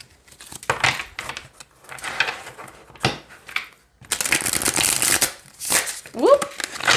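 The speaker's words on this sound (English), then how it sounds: "Okay, so let's shuffle." A Murder of Crows tarot deck is shuffled by hand, giving papery riffles and flicks in uneven bursts, with a person speaking in between.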